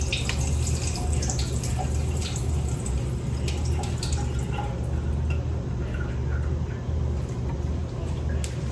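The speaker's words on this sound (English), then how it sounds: "So I'm gonna drain this juice." Juice pours and trickles steadily out of an opened can of regular yellow corn into a sink, a continuous close watery splash and drip with no talking, during home cooking of ham soup.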